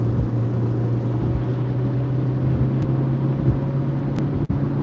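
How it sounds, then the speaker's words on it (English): Steady engine drone with low rumble from a car building speed on the road as turbo boost comes on, continuous and fairly loud with no talk. "The turbo boost is kicking in."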